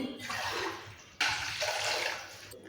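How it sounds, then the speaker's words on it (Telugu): Water from a glass pours into a cooking pot in two steady splashing bursts with a short break between them, close and clear in a home kitchen. "ఒక గిన్నెలో రెండు గ్లాసులు వాటర్ పోసుకొని పొయ్యి పెట్టుకోవాలి"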